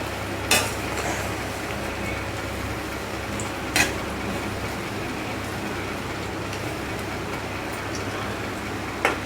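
Cauliflower pieces frying in a pan for a crispy gobi fry, a steady soft sizzle running throughout with a few sharp clicks or taps at intervals, no talking.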